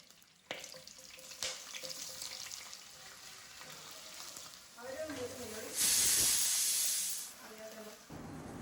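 A pressure cooker cooking beef gives a sharp, bright hiss of steam lasting over a second, amid quieter kitchen clatter and background voices.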